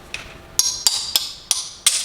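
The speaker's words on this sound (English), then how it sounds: "we knock them out with the little hammer or the little nip tool" Six sharp metallic taps from a small hammer knocking out subway backsplash tiles, at an uneven rhythm, each strike bright and close with a short ringing tail.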